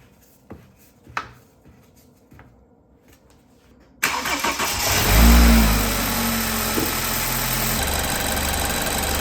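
A BMW 328i with a rebuilt N20 engine, freshly bled of coolant, cranks and fires after a few quiet clicks, flares loudly in a rev, then settles into a steady, close idle, with no talking.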